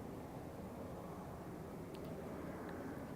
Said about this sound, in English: Sounds like this helicopter that just went by.